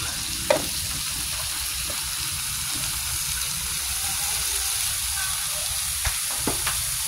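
Jackfruit (pakak) and shrimp simmering in coconut milk in a pot, a continuous close bubbling sizzle with a few soft clinks of a utensil near the start and end.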